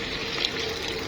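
Warm water is poured into a bowl of flour mixture as a brief, steady, quiet pour.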